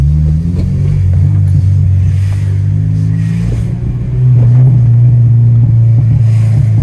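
A 250 bhp Honda Civic Type R EP3 drones loudly and steadily from inside the car while driving, its pitch climbing as the revs build partway through, with no voices.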